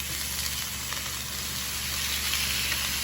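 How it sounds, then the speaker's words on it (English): Eggplant sizzling on an indoor grill, a steady broad hiss and crackle of frying, close and constant throughout, with no talk. "eggplants on the grill. And we're going to cook these"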